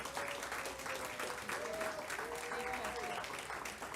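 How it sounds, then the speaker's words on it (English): Applause from the audience at a school district governing board meeting, as a long-serving staff member is honored. Dense, steady clapping fills the room for the whole stretch, with faint voices mixed in. "If we could all give her a round of applause"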